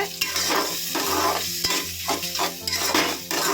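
Steady sizzling from a hot pan over a low flame, with repeated scraping stirs and a few metallic clinks of a utensil against the pan, close and continuous.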